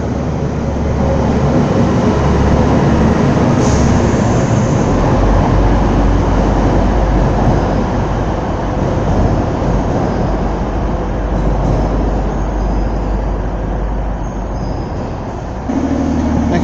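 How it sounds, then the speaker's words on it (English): A TransPennine Express Class 185 diesel passenger train rumbles loudly and steadily nearby at Darlington station, engine drone and wheel noise filling the scene as it draws in. "Next service to arrive in is a cross-country Trans-Pennine Express service from Leeds to Newcastle"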